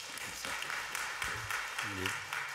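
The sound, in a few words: congregation applauding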